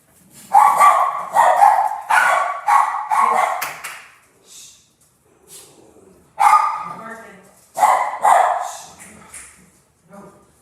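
Several dogs barking loudly and close by in repeated bursts, with yips and a pause before another round of barking.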